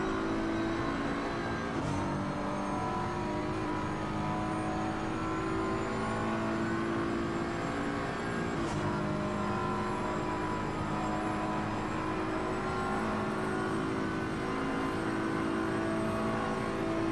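A BMW race car engine drones steadily around the Nürburgring Nordschleife in a racing video game, holding a loud, continuous pitch with small shifts as the car works through corners, and no pauses throughout.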